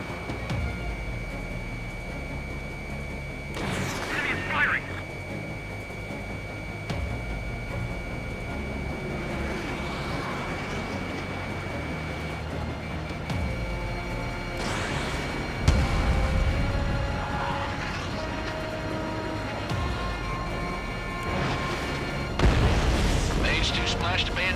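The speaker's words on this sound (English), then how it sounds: "Enemy is firing." Enemy gunfire and explosions in the Ace Combat 7 flight combat game, booming blasts and bursts over a constant jet engine roar, with radio voices talking.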